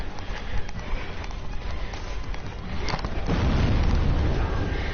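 A boss attack in Dark Souls Remastered ends in a deep, rumbling explosion that swells toward the end. Clattering game sounds come just before it and no one talks.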